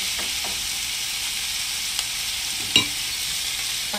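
Pork simmering in a pan, a close, even hiss of bubbling and sizzling with a few small pops and one clink of a utensil, no voices.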